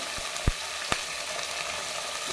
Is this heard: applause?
no